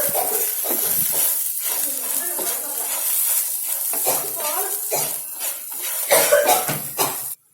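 Spices are stirred into jackfruit seeds frying in a pan, giving repeated scraping and clinking of a utensil against the pan over a steady sizzle, close and fairly loud throughout.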